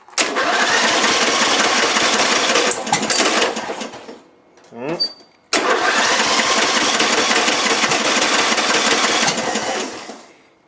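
A small engine on choke catches and runs loud and steady, drops into a sputtering, faltering stretch midway, then roars back up. Voices are heard faintly under the running engine.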